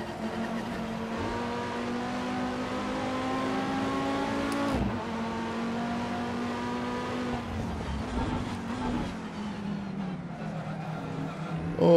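A race car in the Assetto Corsa video game oversteers and skids into a corner, its engine holding a steady loud drone with a brief dip mid-way while tyres scrub and squeal throughout.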